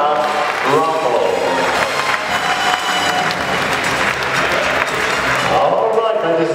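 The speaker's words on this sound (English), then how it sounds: "One more time, ladies and gentlemen, a big round of applause, Mr. and Mrs. Ethan and Shanna Ruffel." Sustained applause from a wedding reception crowd fills the room, steady and loud throughout, with cheering voices mixed into the clapping.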